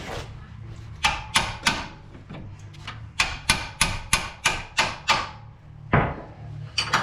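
A pipe wrench bangs on a part of a Ford Super Duty truck during a lift install. There are about a dozen sharp, loud metallic strikes, some in quick pairs and some in a steady rhythmic run, with short pauses between groups.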